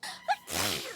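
A single short sneeze bursts out, close and fairly loud, followed by a breathy exhale with no talking around it.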